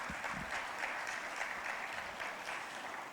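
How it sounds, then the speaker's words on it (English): A crowd applauds the Director General of the Nigerian Civil Aviation Authority at a ministerial council plenary meeting, a dense, continuous wash of clapping from a large audience, steady and fairly loud throughout. "one round of applause for him."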